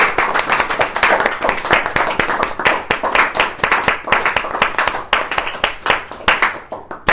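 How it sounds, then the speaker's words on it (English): Repeated sharp hand claps ring out in a quick, irregular series, close and crisp, with a few claps landing in clustered bursts throughout. "Two claps."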